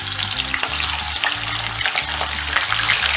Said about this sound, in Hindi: अब हम एक एक करके इसमें प्रॉन्स डालेंगे